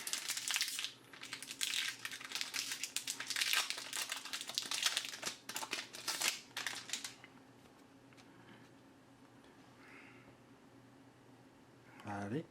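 Crinkling plastic wrapper of a Magic: The Gathering Oath of the Gatewatch booster pack being torn open, with close, loud bursts of crackling for several seconds before settling into quieter handling.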